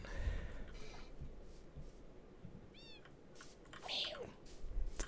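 A tiny kitten in the Minecraft video game gives a couple of short, high, faint meows over a noisy game background, with a player talking.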